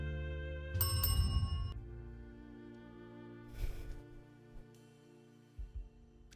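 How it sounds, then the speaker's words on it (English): A bell in a bartender video game rings once with a bright, sustained metallic tone that slowly decays, followed by faint soft clicks and thuds. "you ring the bell to end the day."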